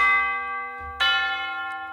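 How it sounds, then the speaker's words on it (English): Tubular bells from the Nucleus orchestral sample library ring out in two clear strikes about a second apart, each leaving a long, bright metallic tone that sustains and slowly decays. "tubular bells. I love tubular bells."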